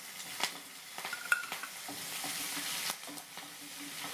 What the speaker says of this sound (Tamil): உளுந்து நல்லா பொரிஞ்சோடனே நம்ம மிளகாயை ஆட் பண்ண போகிறோம்